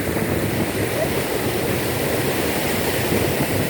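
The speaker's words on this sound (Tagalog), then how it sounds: "Lumalakas ang agos." A strong river current rushes at Lettac Norte in Santol, La Union, a dense, constant roar of churning water filling the space close by, with no pauses.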